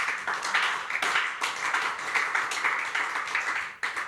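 A congregation claps for Jesus at a Sunday church service, with dense, steady applause running through the whole stretch and brief uneven swells in loudness.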